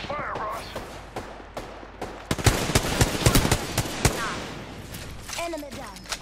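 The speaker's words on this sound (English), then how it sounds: "The enemies are shooting at me." Video game battle with enemies firing: dense bursts of automatic gunfire and rapid shots build to a loud, heavy fusillade in the middle, while voices talk intermittently at the start and the end.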